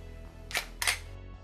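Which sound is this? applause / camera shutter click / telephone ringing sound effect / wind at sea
camera shutter click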